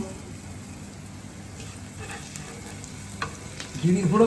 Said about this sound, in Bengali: সরিষার ফোড়ন ব্যাস চটপট চটপট করে ফোটবে